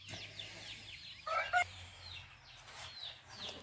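A broody hen being set on eggs clucks in short soft bursts, with a few brief louder squawks midway, against faint background chirping.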